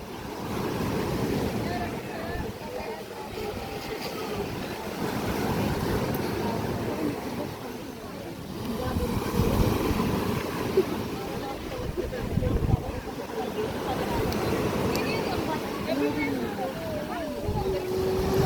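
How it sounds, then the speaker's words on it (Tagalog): Ocean surf at Puka Beach, with waves rolling and crashing continuously amid gusty wind noise on the microphone; people talk over the steady roar. "Grabe ang alon."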